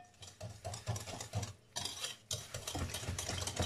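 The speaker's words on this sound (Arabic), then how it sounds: "باش نخلطهم شويه مع بعضهم" Lemon cake ingredients mixed together in a bowl, a rhythmic run of soft stirring scrapes, about a dozen quick strokes with a brief pause midway, close and quiet.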